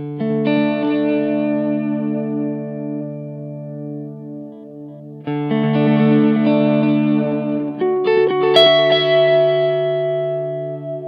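Sustained electric guitar chords drenched in a wavering, swirling modulation effect from a Strymon Timeline delay pedal, with echoing trails, played alone in three long strums.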